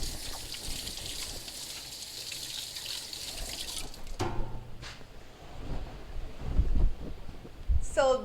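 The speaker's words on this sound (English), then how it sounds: "Let me just wash my hands." Tap water runs into a sink as hands are washed after making a gluten-free plant-based pizza, a steady close hiss for about four seconds that stops, followed by faint handling clatter and brief knocks.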